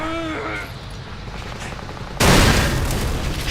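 A propane tank blows up in the video game Kane and Lynch, a sudden loud boom with a crackling, noisy burst that hangs on after a quieter stretch.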